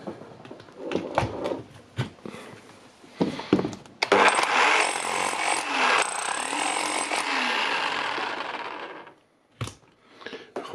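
A Dewalt SDS max rotary hammer fitted with a chisel after head repair, preceded by a few short clicks and knocks, then loud continuous rapid hammering for about five seconds that stops abruptly, followed by more brief knocks.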